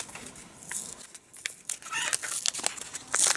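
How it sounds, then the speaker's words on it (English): Chickens cluck and squawk nearby in short, scattered calls, with rustling and scratching sounds between them. "Oh, the chickens."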